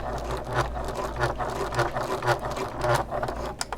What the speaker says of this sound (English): I'm going to stitch 2 lines across,